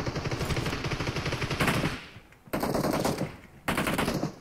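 DP-28 machine gun fire in PUBG Mobile, loud rapid automatic bursts in three strings separated by short pauses, with no talking over it.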